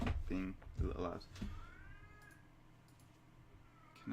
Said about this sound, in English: my cat's being a little loud.